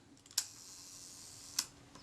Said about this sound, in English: It cocks, the shutter fires,